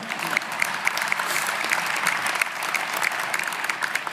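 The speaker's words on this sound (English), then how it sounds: "You can clap for that." An audience at a political speech claps steadily throughout, a dense, even crowd applause with a few crisp individual claps standing out near the front.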